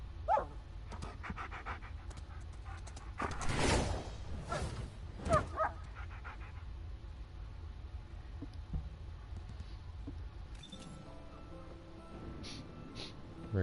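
A dog in The First Descendant pants in quick, rhythmic breaths at low volume, with a couple of louder snorting puffs midway and faint game ambience underneath; no one speaks.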